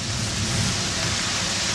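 A heavy thunderstorm pours rain in a dense, steady roar, loud and close, with a low rumbling undertone running beneath the hiss throughout.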